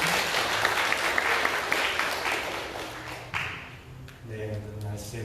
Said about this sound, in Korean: 우리 귀한 말씀 들으신 목사님께 감사의 박수를 드리겠습니다.